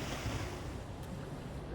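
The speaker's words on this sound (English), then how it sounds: "I sure hope these strong gusts of winds do not disrupt the" Strong gusts of wind blow steadily in the game Soul Reaver 2, a dense, roaring rush that sounds surf-like and stays loud and even throughout, with no voices.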